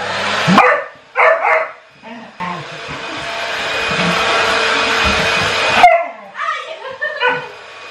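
A steady whooshing hair dryer blows for a few seconds, with a small dog yapping sharply before and after it, and a voice speaking briefly.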